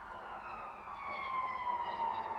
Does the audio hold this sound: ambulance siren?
yes